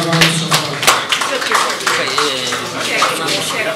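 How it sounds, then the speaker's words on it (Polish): Clapping at an angling olympiad award ceremony, a few loud sharp claps at the start giving way to scattered applause mixed with nearby voices talking. "Brawa."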